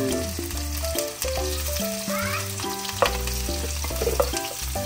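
Onion fries in a pan for Bicol express, a loud steady sizzle with stirring clatter heard close, under background music with a tonal melody.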